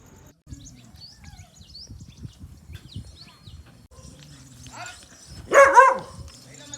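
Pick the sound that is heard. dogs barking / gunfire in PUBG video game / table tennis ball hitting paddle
dogs barking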